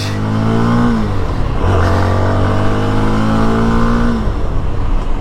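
A CF Moto SR 250 motorcycle accelerates hard on an open road, its engine climbing in pitch, dropping briefly at each gear change and climbing again, loud and close with wind rush.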